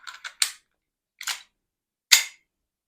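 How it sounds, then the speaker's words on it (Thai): A WE 1911 airsoft BB pistol fires sharp, close snapping shots until the magazine runs empty: a quick cluster of three, then a pause, a fourth, and a final louder crack. "ยิง ลูกหมดนะครับสไลด์ค้างนะครับ"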